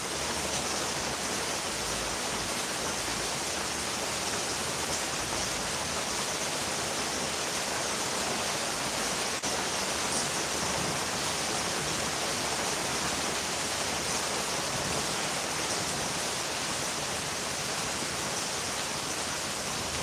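Heavy rain pours steadily during a mountain storm in Rincon, Puerto Rico, a dense, unbroken hiss that stays loud and constant throughout with no voices.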